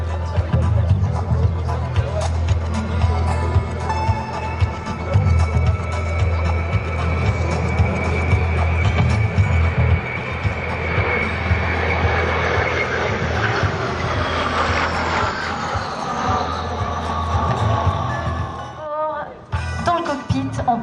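An Atlantique 2 naval patrol aircraft roars past at an air show, a heavy, continuous engine drone that builds and sweeps in pitch before cutting away near the end.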